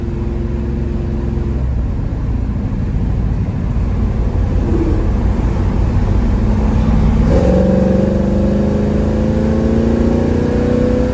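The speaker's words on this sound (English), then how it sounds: "Smokes the tires." A 1966 Ford Mustang GT350 tribute holds a loud, steady engine roar, then revs sharply higher near the end as the tires smoke, the sustained note staying close and heavy throughout.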